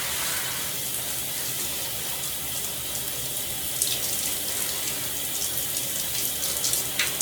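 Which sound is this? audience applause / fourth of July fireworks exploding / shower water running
shower water running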